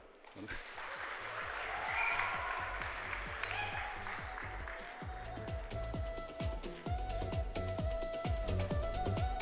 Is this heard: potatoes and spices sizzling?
no